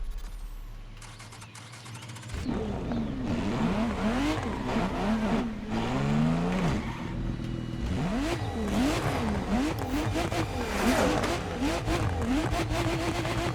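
Lotus Emira sports car in The Crew Motorfest, its engine revving and accelerating through repeated rising and falling sweeps, loud and close after a quieter idle opening, with no talk over it.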